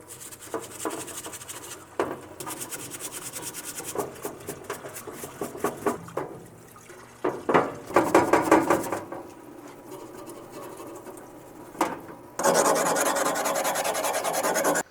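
A junkyard WLA motorcycle part is scrubbed in a parts washer, with bursts of rough brushing and rubbing in uneven strokes, some faster and louder, and a steady wash of splashing running water near the end.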